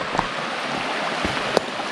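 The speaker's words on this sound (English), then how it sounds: "As you can see, it's a pretty small creek." A small creek flowing at a mining claim, with a steady broadband wash of running water and a few brief splashes or clicks near the end, heard close with no talking.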